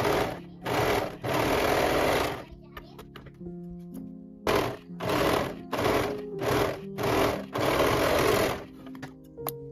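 A sewing machine stitches the new side seam of an altered oversized vacation dress, running in several loud, steady bursts of a few seconds each with short pauses between.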